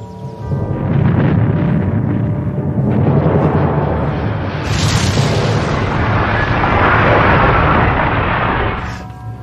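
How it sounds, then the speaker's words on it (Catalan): A huge volcanic eruption, the kind blamed for wiping out the hobbits (Homo floresiensis), booms and rumbles in a loud, sustained blast with roaring low-end debris noise throughout. "Una enorme explosió volcànica podria haver causat la desaparició dels hòbits."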